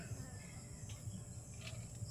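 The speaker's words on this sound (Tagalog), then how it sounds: "Yung mga kuliglig nag-iingay na guys." Crickets chirp outdoors in the early evening, a faint, steady high-pitched trill running throughout over a low background hum.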